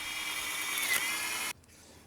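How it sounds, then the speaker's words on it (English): Power drill boring through two wooden boards clamped together, drilling where their edges meet; a steady loud whine runs for about a second and a half, then cuts off abruptly, leaving a faint tail. "clamping two boards together and drilling right where they meet."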